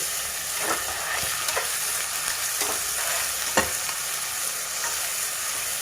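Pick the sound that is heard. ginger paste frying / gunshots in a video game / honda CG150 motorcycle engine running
ginger paste frying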